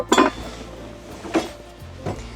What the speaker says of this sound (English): this is a small storage space which has knife, spoons, cutlery, wine bottle opener, and some mugs.